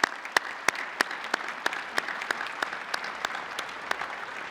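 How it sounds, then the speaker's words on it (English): Audience at a university commencement ceremony applauding, a continuous bed of clapping with sharp individual claps standing out near and loud throughout. "Please join me in giving everyone a big welcome round of applause for all the work that they've done to make today possible"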